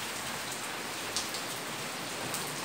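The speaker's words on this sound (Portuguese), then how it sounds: "está chovendo fortemente" Heavy rain pours down in the Bahian sertão, a dense, even hiss of drops striking surfaces, steady and constant with no voices.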